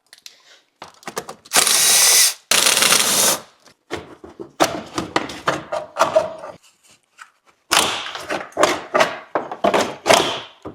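A hand ratchet backs out two 10mm bolts holding the radiator fan on a 2011-2016 Hyundai Elantra, giving close, repeated runs of quick clicking with short pauses and two longer, harsher bursts near the start.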